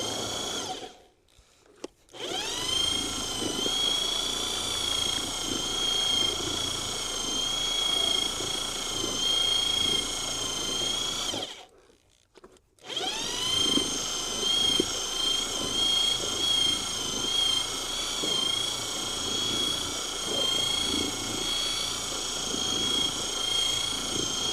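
A drill-driven paint mixer with two small welded blades churns a watery coffee-grounds briquette mix, a loud steady whirring whine that cuts out twice briefly before starting up again, close by and alone.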